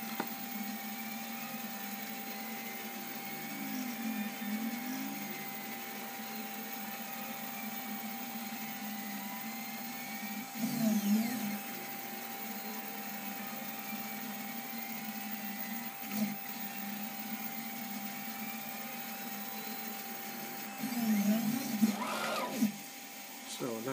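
An additive PCB printer extrudes plastic through its nozzle with a quiet, steady mechanical hum, while stepper motors whine in repeated sweeping tones and a few louder whirring bursts break through.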